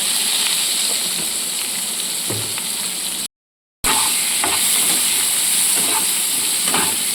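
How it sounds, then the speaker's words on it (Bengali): Sliced ridge gourd fries in hot, heavily spattering oil, a loud steady sizzle and hiss with scattered pops, close by, broken once by a short gap of silence. "এবার ঝিঙেগুলো তেলের মধ্যে ছেড়ে দিচ্ছি। ভীষণ তেল ছিটছে"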